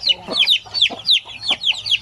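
Basilan chickens, a pure native breed, clucking and calling close by in a backyard flock of about fifteen, with repeated short rising clucks in an uneven rhythm.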